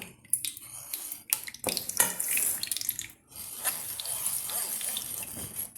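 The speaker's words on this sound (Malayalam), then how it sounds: "ഇത് അരിപ്പയിലോട്ട് ഒഴിച്ചിട്ട് ഇത് നമുക്കിങ്ങനെ എടുക്കാം." Tapioca liquid for cassava halwa is poured through a kitchen strainer, a steady watery trickle and splash with clinks of utensils against the sieve and pan, briefly pausing midway before the pouring resumes.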